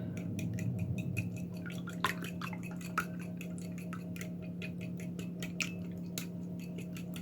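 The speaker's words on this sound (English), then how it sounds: "And we'll give it a little whisk up." Eggs and cream being whisked for a cheese, bacon and onion quiche, quick light clinking taps of a whisk against a bowl over a steady background hum.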